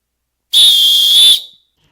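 A single loud, shrill whistle blast sounds close by, held steady for about a second and then cut off sharply. It is heard alone against silence, the kind of whistle that signals the arrival of a garbage collector.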